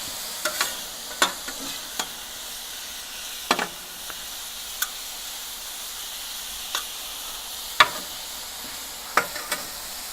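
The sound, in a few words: stirring ribeye and vegetables sizzling on a Weber griddle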